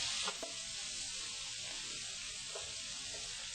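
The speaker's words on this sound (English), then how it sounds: "we'll just throw in the chorizo. And I'm going to saute this till I have a nice color." Chorizo sauteing in a pan for paella, a steady close frying hiss with a couple of faint knocks of stirring, no talking.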